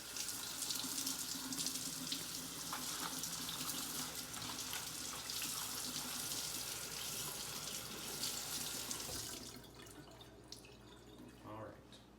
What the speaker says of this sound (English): And now we're going to go rinse the other half of them, so that there's no vinegar and salt solution left.